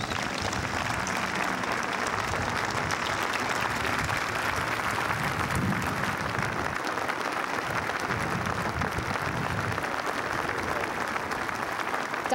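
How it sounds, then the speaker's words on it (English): Sustained crowd applause after Governor Mark Sanford's 2003 inauguration speech, a dense even roar of many hands clapping that holds steady throughout, heard from a moderate distance without talk over it. "Governor Sanford was interrupted 15 times with applause."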